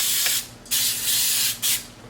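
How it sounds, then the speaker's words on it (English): Baking spray hisses from a can into a muffin tin in three close, loud bursts, each about half a second long, with brief pauses between them; no talking. "We're just gonna go in with some of the baking spray."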